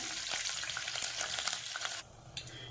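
Curry leaves and two green chillies crackle and sizzle loudly in hot oil in a pan, a steady dense frying hiss that drops off sharply near the end.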